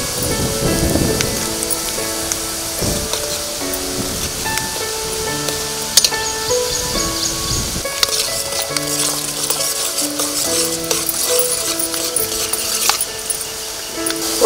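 Chana dal, cumin, mustard seeds and urad dal tempering in hot oil for Rayalaseema pappu pongali: a dense, crackling sizzle runs steadily under soft melodic background music.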